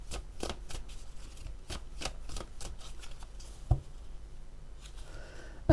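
A deck of tarot cards being shuffled for a reading, a series of crisp riffling flutters and soft slaps close up, with no voices.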